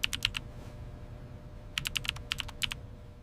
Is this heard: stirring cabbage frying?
no